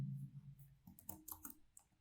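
A computer keyboard clicks through a short run of irregular keystrokes while code is typed, close and fairly quiet, following a brief low thump.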